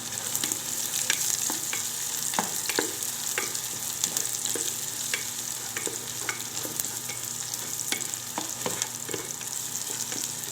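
Garlic sautéing in a pan on an electric stove while making beef papaitan, a continuous bright sizzle with frequent small crackles and pops, close and steady throughout.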